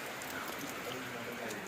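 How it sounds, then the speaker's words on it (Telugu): Steady rain falls in cold weather along the road to Adi Kailash, a constant, even hiss that fills the whole moment without distinct drops or breaks. "మొత్తం వర్షం పడుతుంది ఇప్పుడు"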